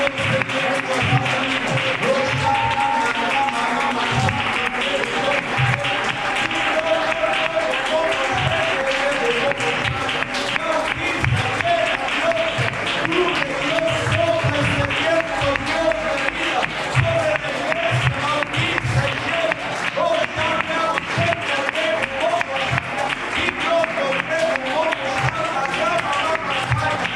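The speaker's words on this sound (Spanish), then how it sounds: "Dale un fuerte aplauso a Jesucristo cada día." A congregation at a Sunday morning church service applauds and cheers for a long stretch, the clapping dense and continuous with a rhythmic low thump and music-like tones running underneath.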